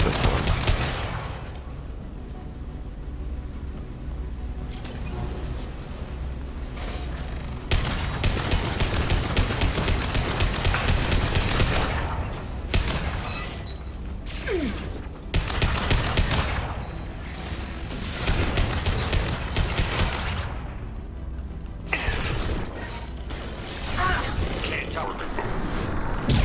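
Gunfire from a newly picked-up gun in the video game Mass Effect 2: Legendary Edition, repeated rapid bursts and booming shots throughout amid game noise, with people talking over the shooting.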